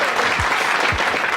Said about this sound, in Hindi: एक बार ताली बजाओ इसके लिए।